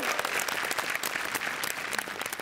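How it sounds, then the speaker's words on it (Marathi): Applause from an audience at a stage event, a dense, continuous patter of clapping hands at moderate loudness throughout, with no talking. "जोरदार टाळ्या झाल्या पाहिजे"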